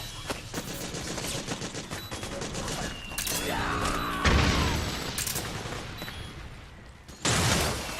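Battlefield gunfire in Metal Gear Solid 4, dense rapid automatic shots and booming impacts rolling on continuously, with soldiers shouting commands over the noise.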